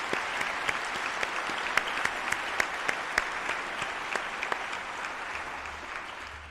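Applause from the audience for graduates at a college commencement ceremony, a dense, sustained wash of many clapping hands with sharper individual claps popping out now and then, continuing evenly throughout.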